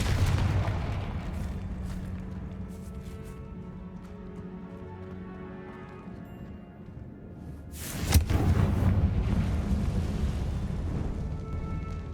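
A Confringo fire spell in Hogwarts Legacy bursts in a loud explosive boom about two-thirds through, following a stretch of rumbling game ambience and continuing as a sustained roar afterward.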